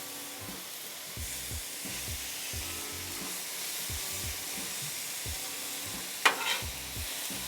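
Tofu and fried rice sizzle on a Blackstone griddle, a steady loud frying hiss with rhythmic scraping tosses of a spatula every second or so and a sharp metal clink near the end.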